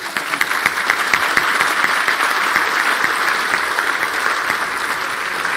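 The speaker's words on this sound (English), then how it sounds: "would you give a huge round of applause for George there" Steady, dense applause from a conference audience at the close of a panel session on banking, sustained clapping filling the room throughout without any talk.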